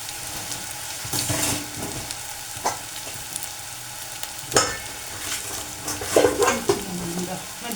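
Cumin seeds sizzle in cooling oil alongside onions pushed to one side of the pan, a continuous frying hiss broken by scraping stirs and clinks of a spoon against the pan.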